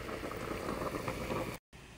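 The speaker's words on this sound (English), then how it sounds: "I'm gonna go ahead and get my water boiling for my noodles." Water at a rolling boil in a pot for noodles, a dense, steady bubbling hiss close by, broken by a brief dropout near the end.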